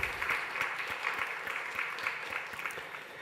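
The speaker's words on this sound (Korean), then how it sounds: "하나님께 영광의 박수 올려드립니다" Congregation in a church clapping after a musical performance at a Sunday service, a steady, fairly quiet patter of many hands held at an even level, with no voices over it.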